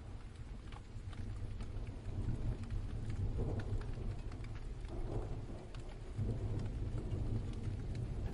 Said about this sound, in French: bercé par le son de la pluie